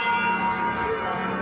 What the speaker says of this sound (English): The silence broken by the tolling of bells.